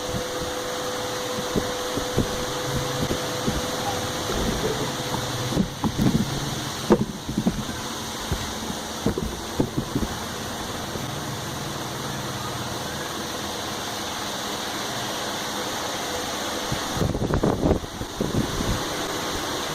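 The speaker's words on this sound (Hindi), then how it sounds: "मैंने ये पंखा बंद कर दिया क्योंकि आवाज़ हो रही थी" A pedestal fan runs on its lowest speed setting, giving a steady, moderate whir with a few brief knocks and clicks near the start and end.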